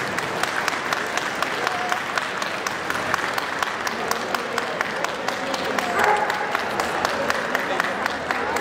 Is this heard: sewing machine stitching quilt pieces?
no